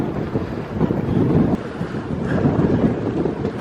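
Steady, roaring wind gusts through an ice-covered winter gorge at Cave of the Winds, close and loud against the microphone, swelling slightly midway with no voices.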